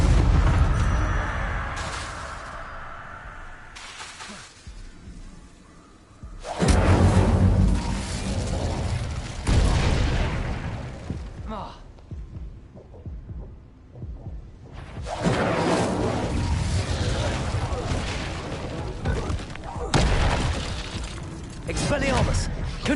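Incendio fire spells are cast in combat in Hogwarts Legacy, alternating with other spells: repeated whooshing bursts and booming impacts come in uneven waves, with a voice speaking over them.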